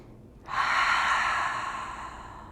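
A single audible breath during a yoga mountain pose, one long airy exhale that rises suddenly and fades slowly over about two seconds, close and alone.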